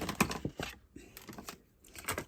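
Scissors cut through card stock on a crafting table with several quick, close, crisp snips and sharp clicks, separated by short pauses.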